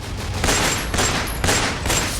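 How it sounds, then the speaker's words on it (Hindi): Rapid bursts of gunfire as masked attackers fire several rounds at a gate, loud and close, with sharp repeated cracks echoing continuously through the area and no pauses between volleys. "गोलियों की तड़तड़ाहट से ये पूरा इलाका गूंज उठता है।"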